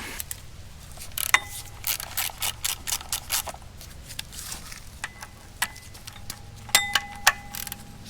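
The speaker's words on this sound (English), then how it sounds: "So take those bolts out." Bolts are backed out of the thrust plate on a Caterpillar RD-6 engine block with a hand wrench, giving a run of close, crisp metallic clicks and ratcheting ticks in uneven bursts, with no talking.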